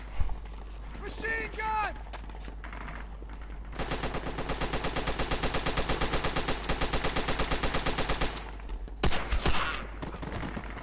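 Rapid sustained automatic gunfire in the video game Call of Duty: World at War, a long steady burst lasting several seconds, preceded by a few single shots and a voice speaking.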